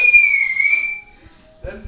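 A person whistles loudly, a sustained shrill tone with steady harmonics lasting about a second, then a pause before a short burst of voices.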